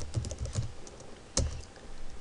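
Typing on a computer keyboard during a PHP tutorial as a web address is entered, a few quick close key taps, a pause, then one sharper keystroke, quiet and alone without speech.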